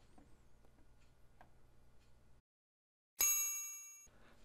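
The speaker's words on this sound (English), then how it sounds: "The ding of that bell lets us know that the plugin is installed" A software notification bell dings once as a plugin finishes installing, a bright, clear ring that decays over about a second after a short silence, following quiet background room noise.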